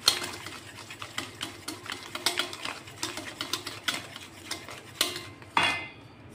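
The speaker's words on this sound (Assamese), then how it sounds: "চেনিটো ভালদৰে ফেটি ল'ম" Sugar being beaten for a cake batter in a bowl, a busy run of quick scraping and clinking strokes from the utensil against the bowl, fairly close and moderately loud, with a few sharper knocks toward the end.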